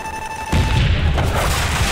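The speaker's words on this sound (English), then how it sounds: "Oh, fucking grenade." Grenade explosion in a Call of Duty campaign, a sudden loud boom cutting in after a quiet moment, followed by a dense rumbling, crackling blast tail.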